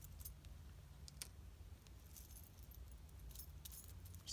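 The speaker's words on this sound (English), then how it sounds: "I was thinking I still had some copper keys down in here" Copper keys jangle in a faint, scattered series of small metallic clinks above a low steady background hum, with no voices.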